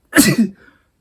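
A single close, sharp sneeze bursts out, with a short breathy trail afterward, then silence.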